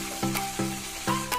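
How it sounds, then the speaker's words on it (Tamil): Chicken drumsticks fry a second time in hot oil, a close sizzle broken by sharp bursts of crackling roughly every few tenths of a second. "இப்போ இந்த சிக்கனை செகண்ட் டைம் ஒரு வாட்டி ஃப்ரை பண்ணிக்கலாங்க"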